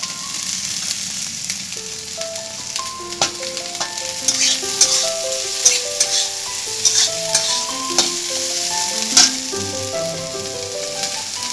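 Capsicum frying in oil in a pan, giving a steady sizzle under soft stirring clinks, while a melodic tune plays along in the background.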